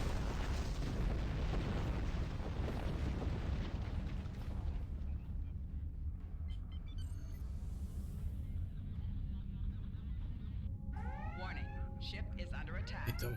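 Torpedo explosions booming in Star Trek Online space combat, a dense rumbling roar of blasts over the first few seconds, then fading into lower rumble with sweeping siren-like tones near the end.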